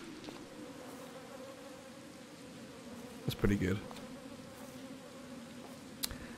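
Flies buzz steadily in Get Even, a dim, dirty room in the game, with a louder close pass partway through; someone briefly speaks over the drone.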